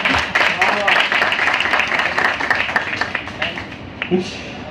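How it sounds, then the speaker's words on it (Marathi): An audience of children and adults claps together in a dense burst of loud, rapid applause that slowly thins out, and a voice speaks near the end. "जोरदार टाळ्या वाजवा"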